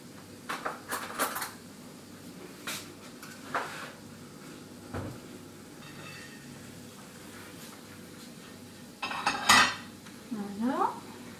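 A plate is lifted out of a kitchen oven during pizza making, with scattered sharp clinks and clatters of dishes and cutlery, close and bright, separated by quiet pauses and ending in a busier burst of ringing clatter.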